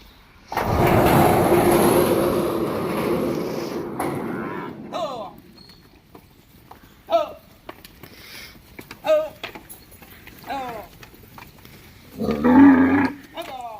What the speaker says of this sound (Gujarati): આમાં ગાયું જોજો કેટલી ગાયું છે આ ગૌશાળામાં